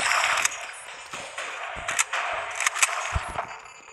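Gunfire in the video game Dead Effect 2: a dense run of sharp shots and rattling bursts, loud and close, with a few harder single cracks standing out near the end.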